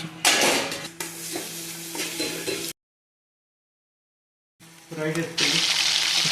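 Egg curry is stirred in a pot on the stove. A spoon scrapes and stirs with soft sizzling and wet clatter, broken by a stretch of silence, and faint voices are in the background.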